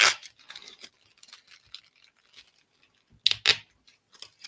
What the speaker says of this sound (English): It's a tape ASMR.